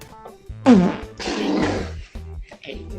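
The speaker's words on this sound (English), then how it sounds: "A drunk man, one fart, and millions of laughs worldwide." A drunk man breaks wind once, caught on a CCTV camera: one brief, loud, buzzing blast close to the microphone, with muffled background sounds around it.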